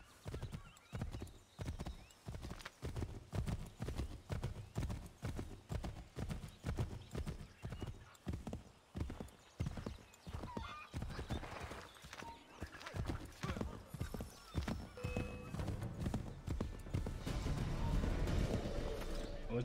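Steady rhythmic clip-clop of horse hooves trotting throughout in the video game Assassin's Creed III: Remastered, with game-like ambience swelling toward the end; a horse whinnies faintly partway through.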